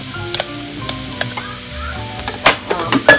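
Drained, chopped fresh spinach stirred into a hot pan for a breakfast quiche, giving a steady close sizzle with scattered scrapes and clatters that grow louder near the end.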